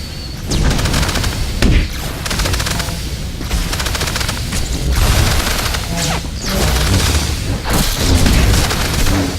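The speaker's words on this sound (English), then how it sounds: "Keep firing!" Weapons and rockets fire in a video game battle during a Flashpoint fight, a dense, loud barrage of rapid shots and booms continuing almost without pause.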